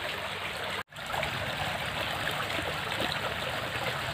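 Irrigation water streams steadily across an onion field, a constant, soft rushing flow with one brief break early on and no speech.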